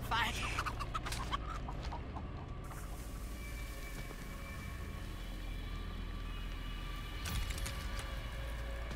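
Alerted chickens in a video game cluck and squawk in a sharp burst at the start, then fade under a quiet background hum with later faint noises while a person talks.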